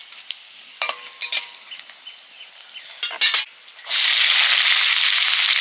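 Five-spice, dried chilli and bay leaf hit hot oil for a Bengali fish curry, preceded by several sharp clinks and stirring scrapes, then a loud, steady close sizzle that fills the final seconds.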